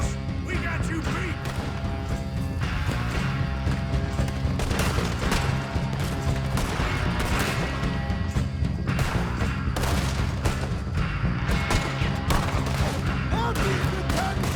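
A shootout with O'Driscoll gang members in Red Dead Redemption 2, dense crackling gunfire and rapid bursts of shots over a constant loud battle din, with shouting voices mixed in throughout.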